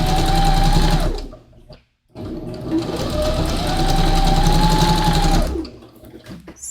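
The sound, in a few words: sewing machine stitching a round neckline on stretch fabric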